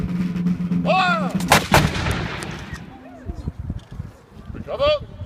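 A historical reenactment regiment of foot fires a musket volley outdoors, one sharp loud crack of massed shots that trails off, with shouted commands before and after.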